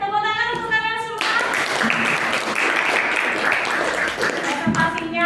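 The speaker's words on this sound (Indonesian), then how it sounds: "Oke, tepuk tangan untuk kalian semua." Classroom applause for a group of students after a dance-technique presentation, a sustained wash of many hands clapping from start to finish, loud and close, beginning right after a brief stretch of speech.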